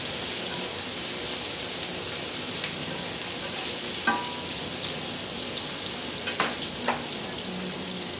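Garlic frying in a hot pan while deer meat is being cooked, a steady, fairly loud sizzle with occasional soft clinks and stirring sounds.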